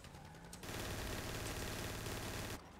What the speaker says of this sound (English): they shooting